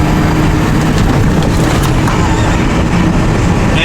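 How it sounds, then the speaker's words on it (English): A Ford F-550 work truck drives over railroad tracks, with a loud, constant rumble of engine and road noise from close by and a couple of faint jolts partway through. "Now we're about to go ahead and hit these railroad tracks"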